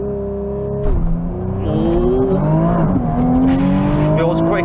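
A Nissan GT-R Nismo launches under launch control, its engine roaring loud and close as the pitch climbs in stepped surges through quick gear changes.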